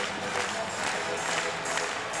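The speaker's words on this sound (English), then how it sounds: "Crowd now on its feet at the John Kress Arena" A college basketball crowd at John Kress Arena applauds and rises, a steady wash of clapping and cheering heard from within the arena.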